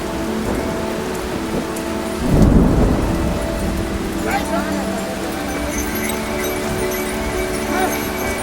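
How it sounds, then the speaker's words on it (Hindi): Thunder rolls over steady rain on a mountain route, a loud low rumble swelling around the middle before easing back into continuous patter, with faint voices in the background. "तभी बादलों की गड़गड़ाहट सुनाई देती है। और कुछ ही पलों में बारिश की बूंदें धरती को छूने लगती है।"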